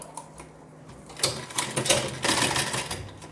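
A domestic sewing machine clatters in quick, uneven bursts while stitching a designer sleeve, growing louder and denser after the first second and continuing close up to the end.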